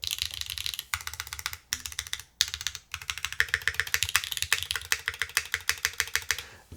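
Bursts of quick clicky keystrokes on a retro-inspired mechanical keyboard with a slightly chattery spacebar, close and crisp, typed in runs broken by short pauses, no voices.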